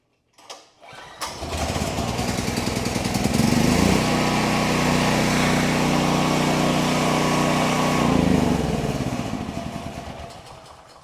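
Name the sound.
6500E generator engine starting and running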